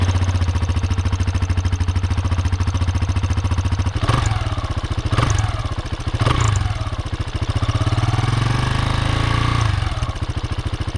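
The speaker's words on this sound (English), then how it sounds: "So this is what the stock exhaust sounded like." A Husqvarna 701 motorcycle with its stock exhaust idles steadily with a close, even thumping pulse, briefly blipped a few times into louder revs before settling back.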